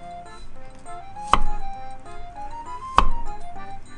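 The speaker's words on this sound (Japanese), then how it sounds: "これ副菜の人参を薄切りをして、" A knife thinly slices carrot on a cutting board, with two sharp, close knocks on the board spaced about a second and a half apart over a quiet kitchen background with faint tonal sounds.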